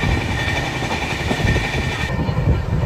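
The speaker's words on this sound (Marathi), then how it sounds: "तर चला आता थोड्याच वेळात ट्रेन निघेल." A loud, steady rumble of a train on the Mumbai to Dwarka route, heard from inside with dense broadband rolling noise and no distinct clicks.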